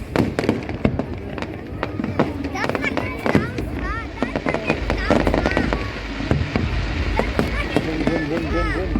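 A fireworks display at the Blackpool World Fireworks Championship 2023 sends out a dense stream of sharp cracks and booms at an irregular pace, with crowd chatter and people talking throughout.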